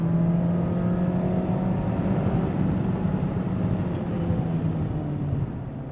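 Mazda ND3 Miata engine pulling steadily on a race track, a continuous buzzing drone heard from inside the car at a fairly constant pitch with a slight drop near the end.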